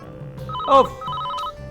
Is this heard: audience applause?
no